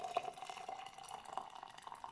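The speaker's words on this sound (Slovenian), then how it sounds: "Približno takole ga natočim, malo več kot do polovice." Hot water, just off the boil, is poured into a glass jar to about half full for making tea, a faint, steady trickle with light dripping and splashing throughout.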